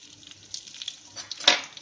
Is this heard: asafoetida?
yes